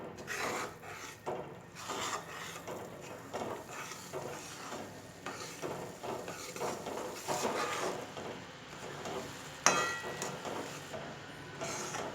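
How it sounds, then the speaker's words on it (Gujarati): Sugar syrup is stirred into thick besan halwa (mohanthal) in a pan, giving a steady scraping, rubbing churn with soft sizzling, continuous and close, with no talking. "હવે ચાસણી મોહનથાળની અંદર થોડી રેડતા જઈશું અને એને હલાવતા જઈશું"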